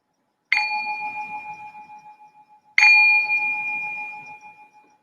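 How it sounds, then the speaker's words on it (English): A meditation bell is struck twice, about two seconds apart, each ring a clear, sustained metallic tone that slowly fades in a quiet room. "I'm going to ring the bell to signal the start of our meditation"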